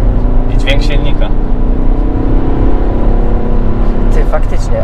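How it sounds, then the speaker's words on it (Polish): Engine of a 2015 Peugeot 308 SW GT 2.0 automatic in sport mode, a loud steady drone heard from inside the cabin, with people talking over it. "I dźwięk silnika."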